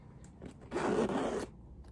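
A single zipper on a Hermes pouch is pulled in one quick, close rasping stroke lasting under a second, preceded by faint handling and followed by quiet.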